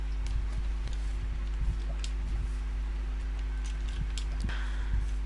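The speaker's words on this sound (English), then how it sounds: "It's a horse." Horse hooves clopping in Minecraft, a light, steady clip-clop pattern of small clicks over a constant low game hum.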